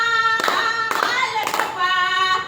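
Hands clap in a slow, steady rhythm during a Hanuman Jayanti devotional bhajan, four or so sharp claps cutting through sustained melodic singing and accompaniment.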